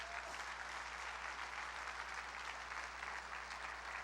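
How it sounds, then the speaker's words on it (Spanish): A church congregation claps loudly and steadily during a worship service, a dense continuous wash of applause from many hands with no talk over it. "Dale fuertes aplausos al Señor."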